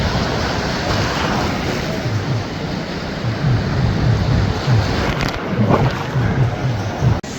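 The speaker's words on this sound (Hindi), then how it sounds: "ये जो आ रहा है ना पानी, बहुत तेज़ी के साथ आ रही है।" Fast-moving sea water and waves wash in at Karachi beach. The surf makes a steady, close hiss and rush under strong wind, and no one talks.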